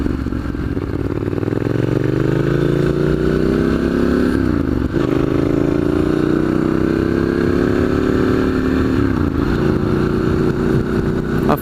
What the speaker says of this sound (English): This one's got the Arrow can, so it's particularly loud.